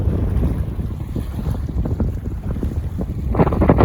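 Wind gusts buffet a small fishing boat moored in coastal water near Mumbai, a rough, blustery roar with microphone rumble and lapping water, swelling louder at the end.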